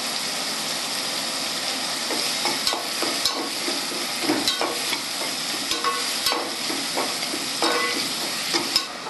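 Chopped tomatoes with salt sauté in a pan for a prawn curry, giving a steady close sizzle broken by repeated scraping and stirring clacks, with no voices.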